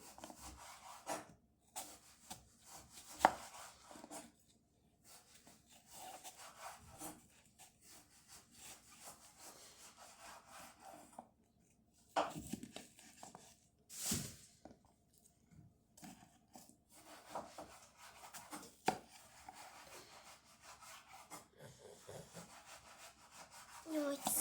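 An apple being chopped for a salad, soft repeated knife strokes and rubbing on a board at close range, quiet and intermittent with pauses and some faint talk.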